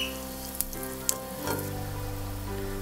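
Garlic and asafoetida sautéing in a pan for ginger chutney give a soft continuous sizzle, with two sharp clicks of a spoon against the pan and a low steady hum beneath.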